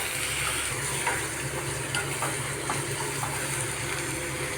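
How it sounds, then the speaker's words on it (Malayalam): Onion, ginger, green chili and garlic sautéing in a pan for a squid dish, giving a steady close sizzle with faint stirring scrapes throughout, no talking. "നമ്മുടെ സബോളയും ഇഞ്ചിയും പച്ചമുളകും വെളുത്തുള്ളിയൊക്കെ നന്നായി വഴറ്റി വന്നിട്ടുണ്ട്"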